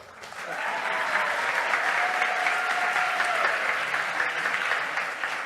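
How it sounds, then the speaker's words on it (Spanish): A large audience applauds at a youth event with presidential candidates, loud sustained clapping that swells quickly and stays dense, with a faint tonal whistle or feedback running through the middle. "¡Un aplauso!"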